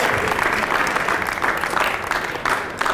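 An audience at a keynote event applauds steadily, a dense sustained wash of clapping that continues throughout with no pause.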